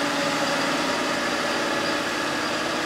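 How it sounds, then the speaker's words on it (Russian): A GAZ 3307 truck engine idling cold on choke, a steady loud rumbling drone without breaks, heard close up. "Ну пусть пока на подсосе, он же холодный."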